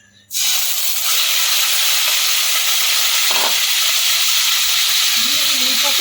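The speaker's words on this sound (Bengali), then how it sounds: "এবার কড়াইয়ে তেল বসিয়ে দিয়েছি আমি তিন থেকে চার চামচ মতো সাদা তেল দিয়েছি ছোটো চামচের এবার আমি চিকেনটাকে দিয়ে দেবো" Chicken drops into hot white oil in a wok, setting off a sudden loud hiss that settles into a dense, steady sizzle, with faint stirring and a brief voice toward the end.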